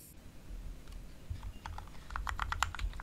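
A mechanical keyboard fitted with clacky, slightly plasticky keycaps is typed on close to the microphone, with scattered keystrokes at first and then a quicker burst of sharp clacks toward the end.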